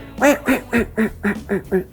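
A hand-blown duck call sounding a hail call: seven loud, evenly spaced quacking blasts in quick rhythm, each a little lower than the first, imitating a duck, close and alone.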